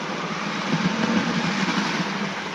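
An OO gauge model train runs over track laid on an insulated shelf, making a steady, close rumbling hum that swells slightly as it passes, with no talking.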